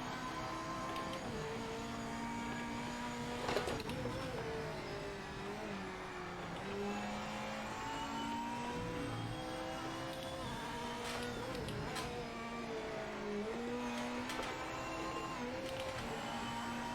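Porsche GT race car in the Project Motor Racing sim, its engine droning and whining steadily as it shifts through gears and rises and falls in pitch, heard alone without talk.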